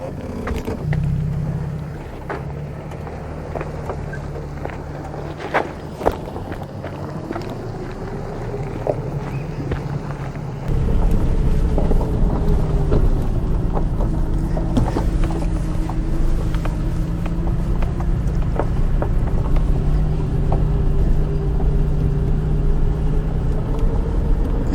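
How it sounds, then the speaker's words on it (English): A 2021 Toyota Tacoma TRD Pro crawls downhill off-road in four-wheel low with diff locks on crawl control, making a steady low mechanical rumble with clicks and clunks that grows louder partway through. "Crawl control, controlling the descent."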